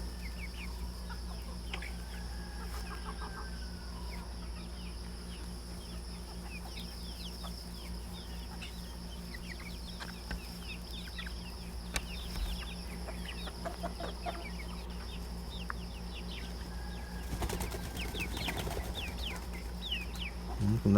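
Rhode Island Red chickens on a farm, scattered clucks and soft calls at a moderate distance over a steady low hum, with a brief rustle of movement near the end.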